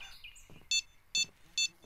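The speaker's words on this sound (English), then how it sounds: "Oh, it's beeping. It's beeping." A rod holder in the fishing video game Fishing Planet gives three short, evenly spaced high electronic beeps, faint and clean against quiet background noise.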